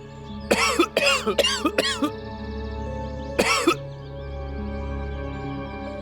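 Man coughing in a row of four harsh, close coughs, a pause, then one more cough over a steady low room hum.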